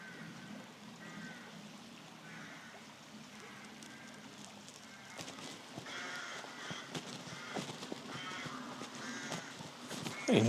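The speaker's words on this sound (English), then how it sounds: "Very noisy birds." Crows caw repeatedly near Janet's Foss waterfall in the Yorkshire Dales, harsh calls rising over a soft background of running water, some nearer and louder, others more distant.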